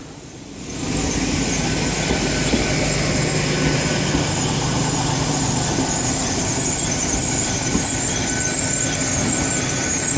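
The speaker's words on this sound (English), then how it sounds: "Great Western Railway service coming in" A Great Western Railway passenger train rolls in at Westbury, its close, loud steady rumble joined by a sustained high metallic wheel squeal throughout.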